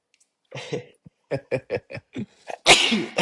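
A short run of breathy bursts and chuckles builds up to one loud, sharp sneeze at the end.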